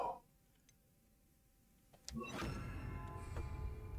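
Confringo fire spell cast in the video game Hogwarts Legacy, a short click and thump, then a sudden loud whooshing burst of crackling fire that keeps roaring steadily to the end.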